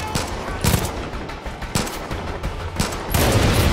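Rapid bursts of gunfire from a gun in Far Cry 5, loud and close, several clustered shots repeating every second or so with little else around them.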